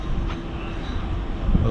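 A class 777 electric train sits or moves at Ormskirk station, giving a short, fairly loud rumble of wheels and motor with a low thump near the end.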